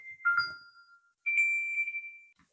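A mobile phone ringtone from an incoming call, heard alone as a short electronic melody of bright tones, then a second sustained chiming phrase after a brief pause.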